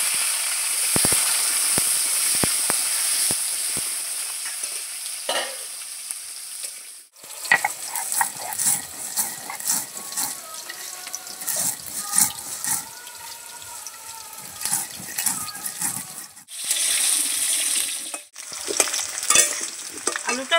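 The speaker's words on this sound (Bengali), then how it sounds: "আলুটা ভাজা হয়ে গেছে" Potatoes fry in hot oil with dried red chillies in a pan, a steady close sizzle broken by repeated scraping and stirring strokes, with no talk over it.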